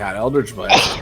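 A single quick sneeze rises out of ongoing conversation among players at a tabletop Dungeons and Dragons session, with speech on either side of it.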